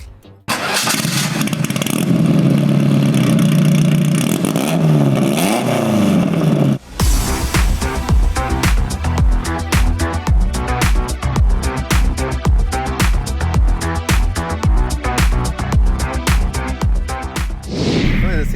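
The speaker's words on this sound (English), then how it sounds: "let's go for a drive in this, what I call a GTA replica clone" An Alfa Romeo GTV hot rod built as a GTA replica clone rumbles loudly at first, then its engine note turns into a rapid, pulsing run as the car sets off, continuing steadily until a final swell near the end.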